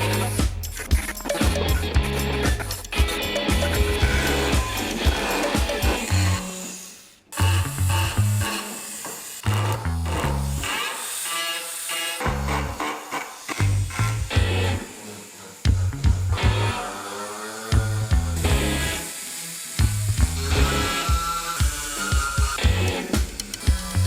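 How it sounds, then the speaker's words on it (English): An aggressive carbide burr on a rotary tool scrapes and chamfers the inside edges of a steel sword-breaker blade. It makes repeated short, gritty grinding bursts with brief pauses, and one longer gap partway through. "I've got this pretty aggressive carbide burr here. That's what I'm gonna use to scrape out and chamfer those edges in there."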